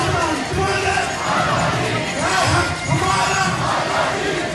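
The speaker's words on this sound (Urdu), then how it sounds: "پاکستانی نژاد امریکی شہریوں نے کشمیر کی آزادی اور کشمیریوں کے حق خود ارادیت کے لیے بھرپور نعرے بھی لگائے" A crowd of Pakistani-origin Americans protesting outside the Indian consulate in Houston chants slogans for Kashmir's freedom, with loud, rhythmic surges of massed voices rising and falling in repeated waves.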